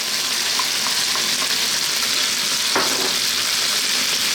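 Onions sizzle and fry for a beef curry, a steady broadband hiss with a few light stirring scrapes and one sharper clatter near the end, close and constant, with no talking.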